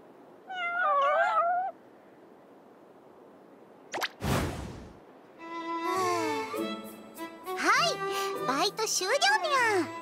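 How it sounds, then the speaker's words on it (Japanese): A cat's meow from the Princess Connect Re:Dive video game sounds in a short, rising-and-falling cry, then a dull thump and splash, followed by animated, cat-like character voices chattering in a quiet game scene. "探検隊の眼前についに待望の未確認猫生物が現れた"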